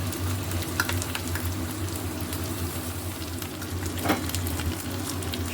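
Ginger, garlic and green chili paste hits hot oil in a frying pan for a winter vegetable dish, giving a steady, close sizzle and bubbling with a faint low hum throughout and no talking.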